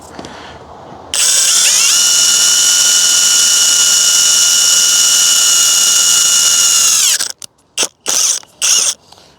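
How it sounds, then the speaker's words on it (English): A power drill pre-drills a pilot hole for lag bolts while mounting a retractable garden hose reel. It gives one long, loud, steady high whine lasting several seconds, then three short bursts of the trigger. "Also supposed to pre-drill the hole"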